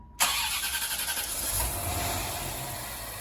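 A 1988 Chevrolet Corvette on a fresh battery cranks briefly, then its engine catches and fires up, settling into a steady, close idle that stays loud and continuous.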